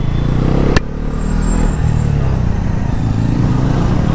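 A 2025 Bajaj Pulsar NS 400Z, rated at 43 bhp, is pulled hard in second gear. The engine roar is loud and steady, with a sharp click near the start.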